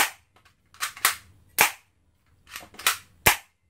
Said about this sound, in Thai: บอดี้เป็นเหล็กกระชากยิงเลย